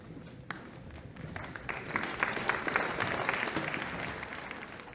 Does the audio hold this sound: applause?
yes